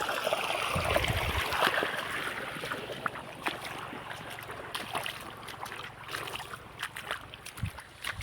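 Irrigation water runs into an onion field in the early morning, a faint low trickle and gurgle with scattered small splashes and knocks, quiet and fairly close, with no voices.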